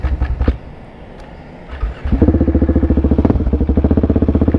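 A 2021 KTM 690 SMC R supermoto runs its single-cylinder engine close by, idling roughly and then revving up into a loud, fast, pulsing thump.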